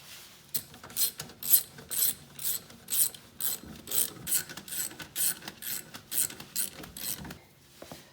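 Close, rapid ratchet clicking comes in a dozen or so rhythmic bursts as wheel nuts are spun onto a Nissan Skyline Hakosuka, the strokes even and steady, with quieter metallic handling in between and no speech.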